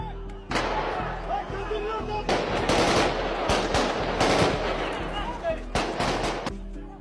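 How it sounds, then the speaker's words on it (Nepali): Bursts of police gunfire aimed at protesters during a street demonstration, rapid automatic-sounding volleys cracking out repeatedly over about seven seconds, loud and fairly close, with crowd noise underneath between the bursts. "प्रहरीले उनीहरूलाई ताकेर गोली बर्साउँछ"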